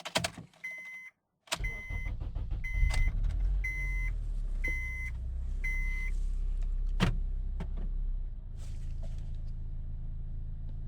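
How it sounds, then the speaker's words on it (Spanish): Honda car engine cranking and starting with its MAP sensor disconnected: a short starter burst, then a steady low idle rumble, with a few chimes and beeps from the dashboard early on. "ya desconecté el sensor y le voy a dar marcha al vehículo"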